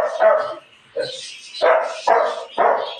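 A pet dog named Tagpe gives a run of five loud, close barks in quick succession, with a short whimper-like yip between them.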